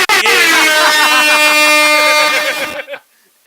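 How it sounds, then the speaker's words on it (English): A loud, blaring air horn sounds for nearly three seconds with a harsh, pulsing tone, then cuts off abruptly into silence. "Kira, hit my air horn."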